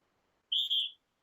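A single clear, high-pitched whistle sounds in a talk-radio studio, holding a steady tone for about half a second. A second short blast cuts in at the end, with silence around both.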